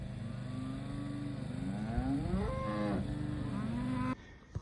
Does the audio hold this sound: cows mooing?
yes